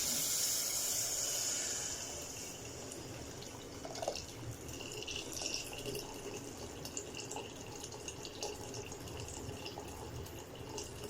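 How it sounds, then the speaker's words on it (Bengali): Hot water is poured into a cooking pot on a home stove, a hissing, splashing rush at the start that fades into quieter bubbling and faint drips. "এখন গরম পানিটা দিয়ে দেবো"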